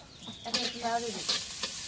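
Sea fish for a curry with potato and radish is stirred in hot oil in a wok, giving a brief, moderately loud sizzle with a couple of stirring scrapes.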